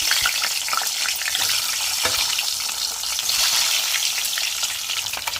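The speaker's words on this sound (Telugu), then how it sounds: "అదేవిధంగా కొంచెం సాల్ట్ వేసేసుకొని ఎగ్స్ అనేది ఫ్రై చేసేసుకోండి" Eggs frying in oil seasoned with turmeric and salt give a steady, bright sizzle with scattered pops and spatters, close up and continuous throughout, no voices over it.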